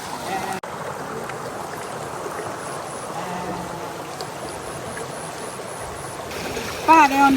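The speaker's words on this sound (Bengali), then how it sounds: "এই পানিটা এত পরিষ্কার থাকে এটা কিন্তু সরাসরি একদম ঝর্ণার থেকে আসছে পানিটা" A hill stream near rice fields at the foot of hills flows with a continuous rushing wash. A brief louder disturbance comes near the end.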